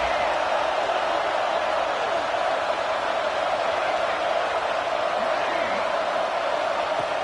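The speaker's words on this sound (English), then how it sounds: "And here comes the noise. This crowd is trying to inspire this defense to make a big red zone stop" A roaring stadium crowd at a college football game sustains a dense, continuous wall of noise, loud and unbroken, with scattered shouts blended into the din.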